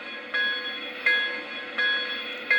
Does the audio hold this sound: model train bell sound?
yes